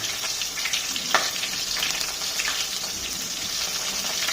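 Onions sizzle steadily in hot oil with cloves for chicken pulao, a continuous crackling fry with a few sharper pops and light stirring scrapes.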